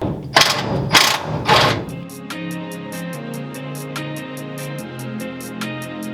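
Ratchet wrench swapping out rear suspension bolts on a Ford Galaxie, a few loud bursts followed by a rapid, even run of metallic clicks close up.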